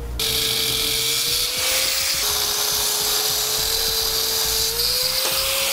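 An angle grinder cuts off protruding bolts on a trailer's exterior side wall, giving a loud, steady, high-pitched grinding whine that holds for several seconds with slight shifts in pitch, close by and with no talk.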